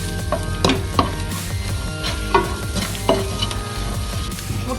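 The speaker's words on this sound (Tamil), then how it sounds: "இதை நல்லா கிளறி விட்டுக்குவோம்" Eggs frying in a pan are stirred, with a constant close sizzle broken by several sharp scrapes and taps of the spatula against the pan at an uneven pace, and no talking.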